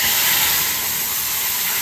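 Spice paste hitting hot oil for a Bengali fish curry with kalo jeere and green chillies, a loud, continuous close-up sizzle and steamy hiss that fills the whole moment.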